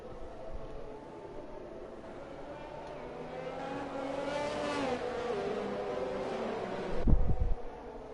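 Race cars in a Formula 1 video game at Singapore circle behind the safety car, a steady engine drone rising and falling with a brief louder burst near the end, no voices.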